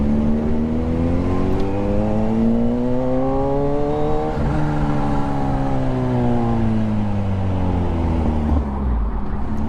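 A Kawasaki ZH2 motorcycle engine revs nearby, its pitch climbing, dipping and rising again in smooth sweeps, a loud sustained growl with no talking.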